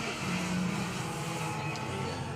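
A Subaru rally car at a rally stage roars with a steady, high-revving engine note from a moderate distance, sustained and fairly loud with a brief gear-change blip near the end.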